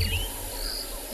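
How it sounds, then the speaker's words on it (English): Birds and insects chorusing at sunrise in the Kalahari bush on a cool morning, a dense steady wash of high chirps and trills with no talk over it. "have a listen to all of the birds that are still having their dawn chorus in this cool weather"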